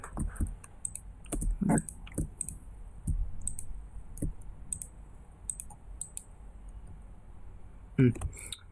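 Computer mouse clicks while working in Photoshop: scattered sharp, brief taps spaced irregularly, with a quiet steady hum behind them and occasional faint speech.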